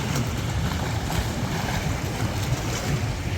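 Steady wash of Danube water at Batoți with waves slapping and churning close by, a continuous broadband rush with no voices.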